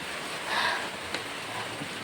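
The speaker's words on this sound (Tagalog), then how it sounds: "Grabe naman tong ulan na to." Heavy rain pours down in a steady, dense hiss, with one brief tap standing out from the constant wash.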